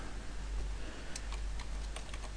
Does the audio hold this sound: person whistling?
no